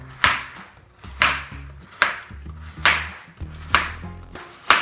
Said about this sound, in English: I'm going to chop them up just into circles like that